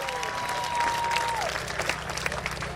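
Moderate applause from the audience at a Cheddi Jagan memorial ceremony, with a sustained tone sliding underneath early on and clapping thinning toward the end.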